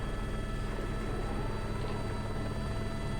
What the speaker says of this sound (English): Cyclic is going a little bit, but helicopter looks steady.